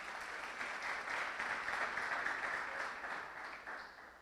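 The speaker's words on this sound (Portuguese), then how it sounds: "Palmas para as atrizes aí." A church audience applauds the actresses after a performance, a dense steady wash of clapping from many hands that holds for several seconds and then begins to thin.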